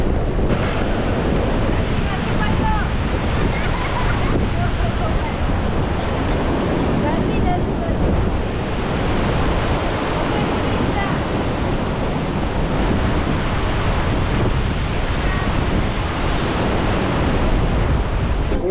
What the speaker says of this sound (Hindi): वहाँ पे एक्चुअल फॉल्स है।